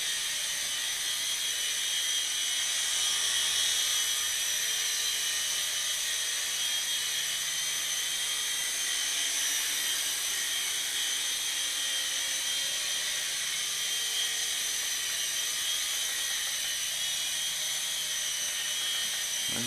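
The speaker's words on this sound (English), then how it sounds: "Definitely a good, first 4-channel practice helicopter" Hubsan H205B four-channel RC scale civil helicopter in flight, a steady high-pitched motor whine and buzzing rotor hum that hold without pause for about twenty seconds.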